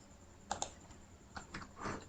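Light typing on a computer keyboard in a quiet room, a handful of sparse, soft clicks spread irregularly over about two seconds, with a steady faint hum underneath.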